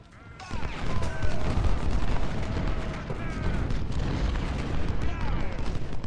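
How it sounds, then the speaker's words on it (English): Cannon fire from Civil War artillery in the strategy game Ultimate General: Civil War, a continuous rumbling barrage of booms and gunfire with battle noise throughout, dense and loud. "And they immediately have cannon that open fire."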